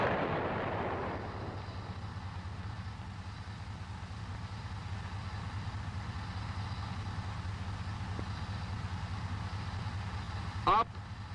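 An M551 Sheridan armored reconnaissance vehicle fires its main gun: a heavy boom opens and quickly fades into a low, steady engine rumble, with a short sharp click near the end.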